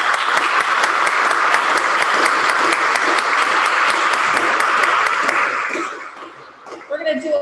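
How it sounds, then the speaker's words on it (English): An audience applauds graduates at a craft school graduation ceremony, dense loud clapping that fills a large space, then fades out near the end as a few voices and stray sounds follow. "Round of applause for our graduates."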